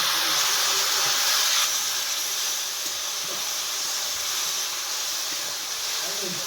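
Water poured onto chilli, coriander and cumin powders frying in a pan gives a loud, continuous steamy hiss and sizzle that holds steady throughout, with faint kitchen sounds beneath.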